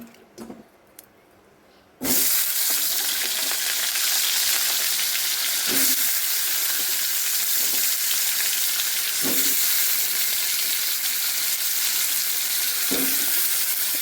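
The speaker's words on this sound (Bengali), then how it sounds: "এবার আলুটা ভেজে নেব, ওর জন্য তেল দিয়ে দেবো।" Potatoes hit hot oil in a pan with a sudden loud sizzle that then holds steady and close, broken by occasional stirring scrapes.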